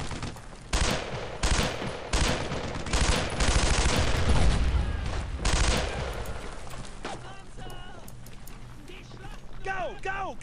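Tommy gun fire in Brothers In Arms, a loud run of rapid automatic bursts that fades out, followed by shouted voices amid battle noise.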